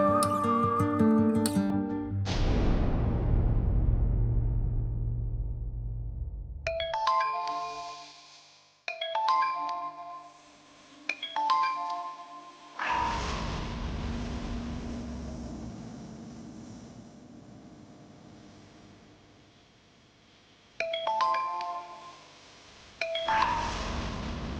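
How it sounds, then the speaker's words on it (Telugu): A phone rings with an incoming call in a Telugu TV drama scene, the repeated ringtone bursts standing out clearly over background music with short gaps between rings. "ఎందుకు రవి నా కాల్ కట్ చేస్తున్నావు?"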